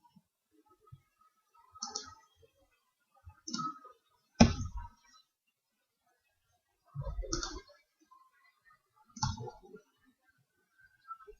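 Computer mouse clicks in a quiet room, a handful of isolated sharp clicks spaced a second or two apart, some in quick doubles, close and fairly crisp with no voices.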